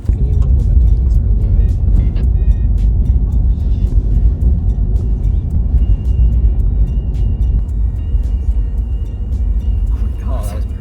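A car drives by on the road during a film stunt shot, its engine rumble and road noise steady and loud throughout, with brief higher clicks and noises on top.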